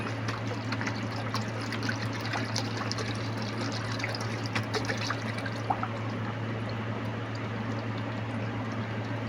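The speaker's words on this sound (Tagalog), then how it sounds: "Ngayon po, lalagyan po natin na siya ng sabaw." Water is poured into a cooking pot for salmon sinigang made with miso. A steady trickling and pouring flow runs without a break over a constant low hum, close and moderately loud, and no voices are heard.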